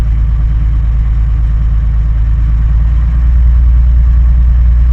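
A vintage Bristol VR double-decker bus, registration PKE809M, idles steadily after three weeks unused, a loud low engine drone with a throbbing pulse that swells slightly near the end as air pressure builds.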